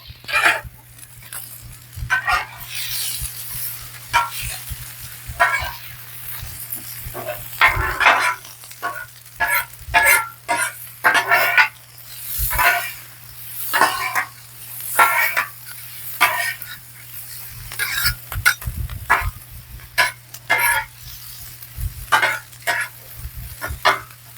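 French fries sizzle on a hot Blackstone griddle while a metal spatula repeatedly scrapes and tosses them, producing irregular bursts of scraping and clatter over a constant frying hiss, with no talking.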